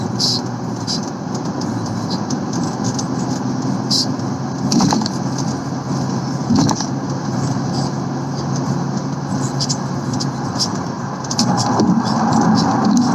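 A 1995 BMW 525i with its inline-six pulls through the revs while driving in New York City traffic, a steady broadband engine and road roar holding throughout and swelling slightly near the end.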